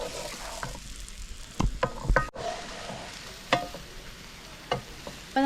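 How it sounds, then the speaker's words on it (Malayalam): Chopped plantain being stirred and fried in ghee, a steady close sizzle broken by several sharp scraping and clacking strokes of the spoon against the pan, with no talking. "ഇത് നന്നായിട്ടൊന്ന് ഇളക്കി നമുക്കിതൊന്ന് വരട്ടിയെടുത്തിട്ട് വരാം"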